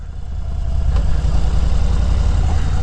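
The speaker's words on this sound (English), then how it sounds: "my motorcycle sounds like it's lugging, it's about to stall" A motorcycle engine chugs at low revs, a deep, steady rumbling throb that sounds strained and close, with no talking.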